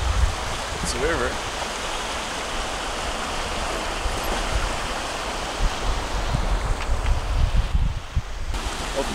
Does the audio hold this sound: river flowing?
yes